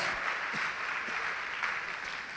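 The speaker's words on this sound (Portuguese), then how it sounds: "Vamos aplaudir o Senhor" A church congregation applauding during a Portuguese-language service, steady massed clapping with a few sharper claps standing out.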